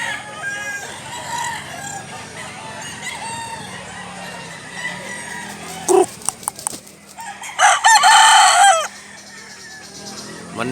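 A rooster crows loudly and close by near the end, one drawn-out call after a few sharper clucks, rising over a quiet farmyard background.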